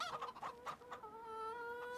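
Chickens clucking in the Farming Simulator 25 farm game, a steady run of soft overlapping clucks and calls at moderate distance, continuous throughout with no talking.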